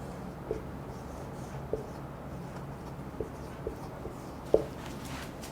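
Sparse chalk or marker taps and strokes on a board during a physics lecture on cross products, several faint clicks spaced irregularly over a quiet room hum, with no talking.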